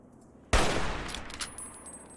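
A single loud, sharp gunshot in Fallout: New Vegas bursts out of near silence and decays into a lingering rumble and ringing tail, with no talking.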